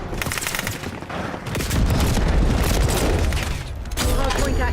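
A frag grenade blast and rapid gunfire in Call of Duty Warzone in Verdansk, with a dense, continuous barrage, a heavy low boom swelling partway through and fresh shots cracking near the end.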